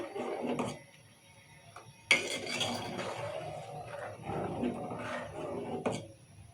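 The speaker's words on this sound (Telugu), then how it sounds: "ఇట్లా కలుపుకుంటూనే ఉడికించుకోవాలి దీన్ని" Bottle gourd mixture being stirred in a cooking pot, with scraping and clinking of a utensil against the pot in short bursts at moderate loudness, no talking.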